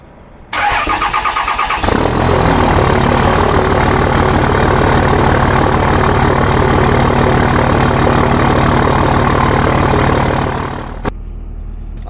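A Cummins diesel truck engine cranks and fires up, then settles into a loud, steady, close-up idle with a deep rumbling clatter while warming up, before dropping to a quieter idle at the end.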